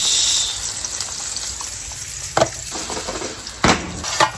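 Mushrooms, kangkong and onions sauté in hot oil, giving a steady close sizzle with occasional sharper spatters and stirring clatters as the pan is worked; no talking.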